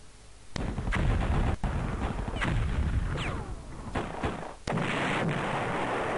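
Artillery bombardment of a fort in the strategy war game Panzer General, with repeated sharp gunfire blasts and booming impacts over a dense rumbling battle din, loud and close, with no talking.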